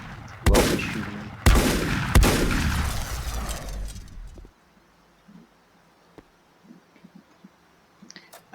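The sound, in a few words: gunfire in the video game Volcanoids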